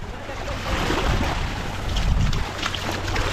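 A boat moves across open water, its engine rumbling low beneath splashing waves and gusty wind buffeting the microphone.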